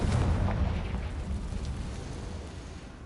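A Confringo fire spell explodes in Hogwarts Legacy on PS5: a loud, deep boom right at the start that rolls into a long rumbling decay fading over three seconds.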